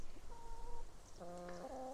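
Chickens cluck faintly in a few short tonal calls, one brief cluck followed by a longer layered burst, soft and somewhat distant over a quiet background.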